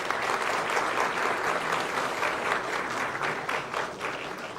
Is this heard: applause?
yes